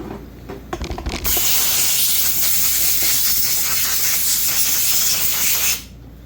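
A loud, steady spray hisses while rinsing down an Echo CS370 chainsaw, starting after a few brief knocks and running about four and a half seconds before cutting off.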